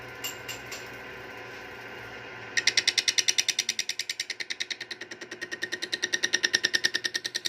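Metal scrapes in a fast, steady rhythmic grind as a tight steel ring on a two-stroke crankshaft is worked, close and fairly loud, following a few quieter clicks at the start.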